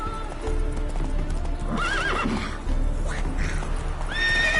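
Roach, the horse in The Witcher 3 video game, gallops with a steady, close clip-clop of hooves and lets out a couple of loud neighs and whinnies over a rumbling background.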